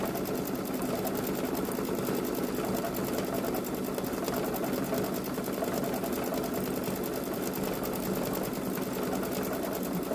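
Babylock Solaris Vision embroidery machine stitching out black thread on a Ninjago design: a continuous, fast, even mechanical whirr and tapping at close range, unbroken by any voice.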